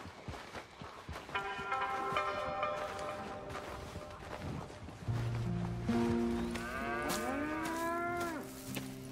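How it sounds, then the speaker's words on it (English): Cattle on a dairy farm moo repeatedly, long drawn-out calls from several animals overlapping at close to middle distance, with barn noise and some shuffling underneath. "Here's the cows."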